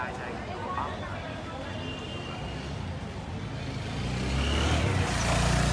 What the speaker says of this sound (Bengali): একটা ছেলে মোটরসাইকেল নিয়ে খুব আওয়াজ করতেছে এখানে।